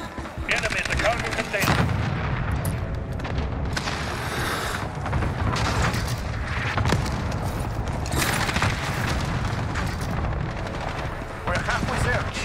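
Continuous gunfire from a 725 shotgun class setup in Modern Warfare, with dense shots and booming blasts layered over a constant battle din throughout, with no quiet gaps.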